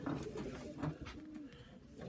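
Pigeon hen cooing close by in a loft of Sheffield and Macclesfield birds, a few soft throaty coos rolling over about two seconds with no talk.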